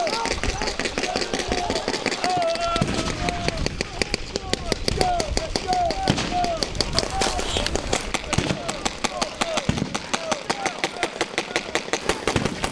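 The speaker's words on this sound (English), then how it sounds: "This course is designed to simulate live fire during a firefight." Simulated live gunfire rattles across a Marine training course in dense, sharp bursts of cracks and pops. Shouting voices and whistle-like tones mix in with the racket.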